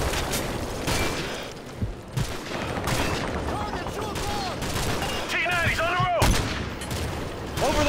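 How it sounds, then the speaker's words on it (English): Gunfire rattles nonstop in a battle in Call of Duty: Modern Warfare 3, dense bursts of rifle and machine-gun shots with booming impacts, while soldiers shout over the din. "We're taking fire!"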